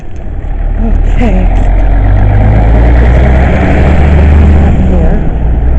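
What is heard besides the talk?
truck driving past, engine idling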